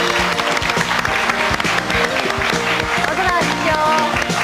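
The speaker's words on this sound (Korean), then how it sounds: "큰 박수로 맞아주시기 바랍니다" Studio audience applause greeting guests walking onto a Korean TV talk show stage, a steady dense clapping wash throughout with music and voices mixed underneath.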